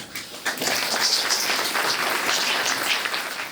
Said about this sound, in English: thanks everyone for the round of applause